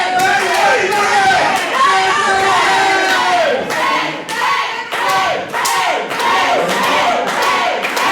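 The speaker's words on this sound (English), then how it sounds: "Crowd getting behind Bennett." A crowd at a Friday night RDW wrestling house show cheers and claps in loud, swelling waves with thuds in the mix, and commentators talk over the noise.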